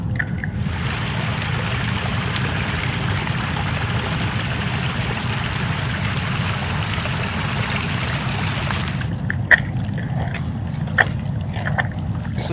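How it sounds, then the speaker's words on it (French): Surface meltwater trickles and runs steadily across a glacier near Val Thorens, a continuous close watery rush over a low rumble, with a few faint knocks near the end and no voices. "Et là, on a un ruissellement de surface. Des eaux de fonte de surface."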